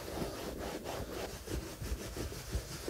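Towel rubbing conditioner into a leather car seat, a quiet rhythmic scrubbing and rasping of cloth on leather in steady back-and-forth strokes, close and with no voices.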